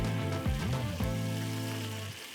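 Sauce and flavorings for a spicy tuna spaghetti sizzle steadily in a pan on a stovetop, a close, continuous hiss over a low humming drone.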